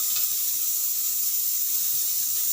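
Water running steadily from a tap into a cooking vessel holding carrots, brinjal and beans for sambar, a constant close splashing hiss with no talk.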